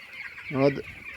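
Large broiler chickens inside a poultry shed give a brief, close cluck against a soft background hum of the flock.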